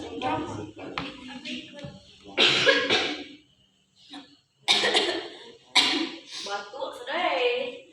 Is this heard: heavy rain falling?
no